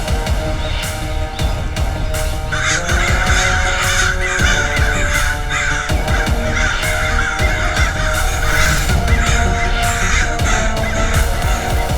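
A loud flock of crows caws continuously, many harsh overlapping calls at close range with fluttering and throbbing underneath, part of an animated Aladdin story.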